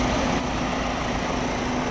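A VW Passat B6 2.0 TDI engine idling steadily with the radiator fans spinning because the air conditioning is running, a constant close drone and whir with a steady low hum.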